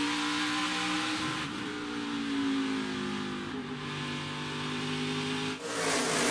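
NASCAR Craftsman Truck Series race trucks roar past together at a restart. Loud, sustained engine drone shifts in pitch as the pack accelerates, with a steady wall of noise and no commentary heard.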